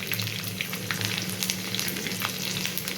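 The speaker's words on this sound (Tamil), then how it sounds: "அது கொஞ்சம் லைட்டாக கோல்டன் ஃப்ரை அளவுக்கு நம்ம லைட்டாக வதக்கிக்கலாம்" Green chillies and whole garlic cloves frying in oil in a pan give a continuous, close sizzle dotted with small crackles and pops, with no talking.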